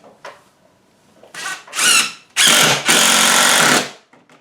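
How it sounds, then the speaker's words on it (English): Power drill driving a screw into a wooden rabbit house, heard up close as a few loud whirring bursts that rise and stop, the longest lasting over a second, with short quiet gaps between. "See if I can put a bit of tension on this while screwing it in."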